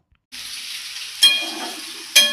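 Mustard seeds and dry red chillies hit hot oil with a sudden loud sizzle that keeps crackling, with two sharper bursts of spatter along the way.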